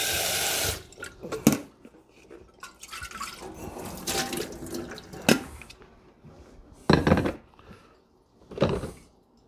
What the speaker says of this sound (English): So rinse the carafe out.